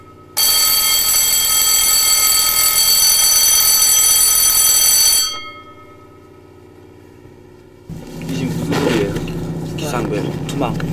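A loud electric alarm bell on a croaker fishing boat rings steadily for about five seconds and then cuts off, leaving a low engine hum and later some clattering.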